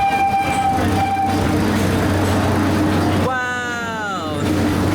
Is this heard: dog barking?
no